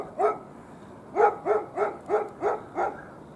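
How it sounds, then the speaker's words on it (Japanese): A guard dog at a Buddhist temple barks six times in a row, nearby and fairly loud: one bark, a short pause, then five evenly spaced barks in a steady rhythm, with no talking. "よく吠えてるワンちゃんはそちらにいらっしゃいますよ"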